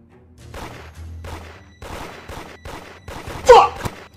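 Gunshots ring out in the Roblox horror game Horror at the Laundromat as a series of rapid bursts of fire, rising to a louder crack near the end.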